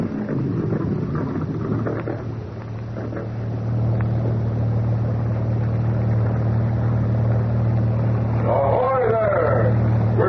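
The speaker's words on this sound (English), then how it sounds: "Here comes a police boat." Police boat motor in an old-time Green Hornet radio drama, a steady low drone that swells and nears under talk, with another voice calling out near the end.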